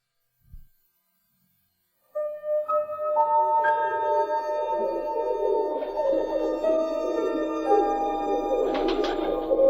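Pigeons coo in a pigeon loft as a storybook cassette effect, a soft tap followed by steady, layered tonal cooing that swells and holds.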